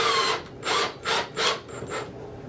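A power drill drives screws into wood in four or five short, whirring bursts separated by brief pauses, heard close and fairly quiet.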